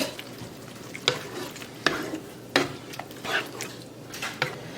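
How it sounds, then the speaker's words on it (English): Pasta bake ingredients for a pizza pasta bake are stirred in a pan, with scraping clinks and soft sizzling repeating every second or so, fairly close and unaccompanied by talk. "Give everything a good stir."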